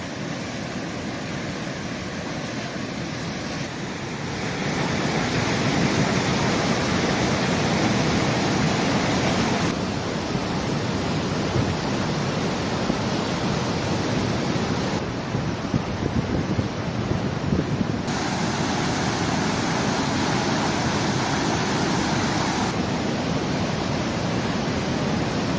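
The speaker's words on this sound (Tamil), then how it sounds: "முல்லை பெரியாற்றில் தடுப்பணைகளை தாண்டி தண்ணீர் ஆர்ப்பரித்ததால்" Flood water roars over check dams on the swollen Mullai Periyar river, a loud, continuous broadband rush that swells after a few seconds and surges unevenly throughout, with no voices.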